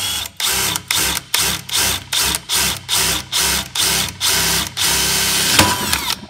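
An electric drill bores into metal at low speed in short bursts, about ten loud close whirring pulses with brief pauses between them, followed by a longer continuous run ending in a sharp scrape.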